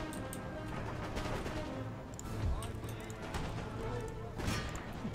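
Canister shot from massed cannon in the Empire Total War strategy battle, a rolling crackle of distant gunfire and thuds layered over steady battlefield din, with a low boom near the middle and talk underneath.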